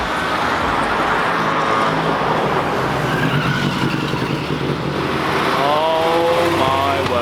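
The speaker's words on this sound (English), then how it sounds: "That was a 300 SL Roadster." Mercedes 300 SL Roadster driving past on a Monaco street during a rally, a loud, steady engine roar mixed with dense traffic noise, with the engine note rising and falling as it goes by.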